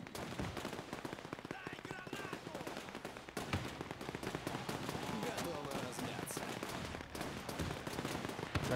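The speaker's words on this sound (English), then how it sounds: "Where's my machine gunner?" Dense machine gun fire from a Men of War 2 battle crackles in rapid, overlapping bursts alongside scattered gunshots and explosions. The sound stays loud and continuous, with faint voices mixed into the din.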